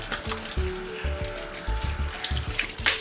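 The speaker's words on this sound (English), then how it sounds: "So we would come and we would rinse our berries," Berries rinsed in a plastic clamshell under running tap water, a steady close splashing stream with the patter of water through the holes over the fruit.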